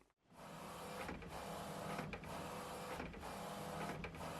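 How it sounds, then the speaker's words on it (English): A photo printer warming up and printing: a steady mechanical whir with brief rhythmic pauses about once a second, close and fairly quiet, with no talking. "Let's get that printer warmed up."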